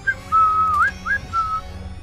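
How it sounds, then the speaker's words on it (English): A person whistles a short, wavering melodic tune close up in Ghostbusters: Spirits Unleashed, a few bright sustained notes with slides between them and quiet game ambience beneath. "I'm whistling in his ears."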